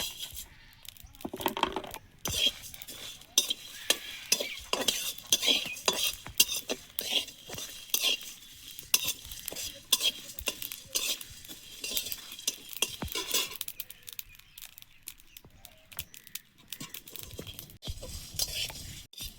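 Coriander, fenugreek, fennel and cumin seeds with black pepper are stirred while dry-roasting in a pan, making continuous rattling scrapes and small clinks of seeds and spoon against metal, close and busy throughout.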